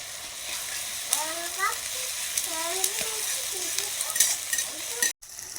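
Onion paste and ginger-garlic paste frying in hot oil for duck curry, a steady close sizzle with occasional stirring scrapes while a voice speaks over it throughout.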